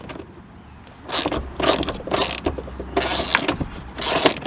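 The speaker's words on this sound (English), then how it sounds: "we're gonna continue to take this 12 mil out, which is over here" A 12 mm bolt is being loosened from the door of a Honda Element during a door checker replacement, giving a run of ratcheting, scraping mechanical bursts up close with no talk.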